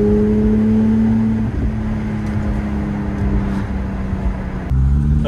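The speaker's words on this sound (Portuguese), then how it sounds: "eu já tá querendo dar uma aceleradinha no carro" A Porsche GT3 RS engine holds a steady, loud low drone with a brief dip and a shift near the end, heard alone without talk.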